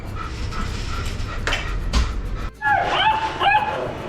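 Juno the puppy lets out several high yips and barks close by, following a stretch of rustling outdoor noise near a cricket ground.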